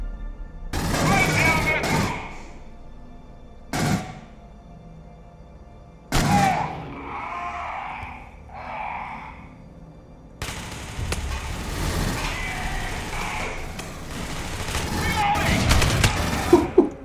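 Sharp rifle gunfire in Aliens Colonial Marines cracks out in several loud bursts separated by gaps, followed by a denser stretch of rapid shots and booms, with a voice briefly heard between.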